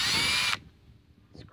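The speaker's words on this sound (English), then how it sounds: "you're gonna need a drill or some sort of something that you can get the screws out" Power drill backing screws out of a cover during lawn equipment work: a short, loud, high whine of the motor for about half a second, then it stops and leaves faint handling noise.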